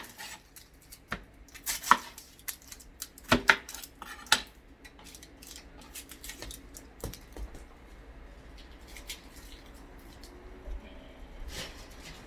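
A knife chops halves of yellow and purple onion on a cutting board, sharp uneven knocks that come in quick bursts early on, then lighter, sparser taps, close up with faint talk in the background.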